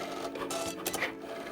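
A Cricut cutting machine whirs into motion, a continuous close mechanical hum with faint motor whine and small clicks, alone without talk.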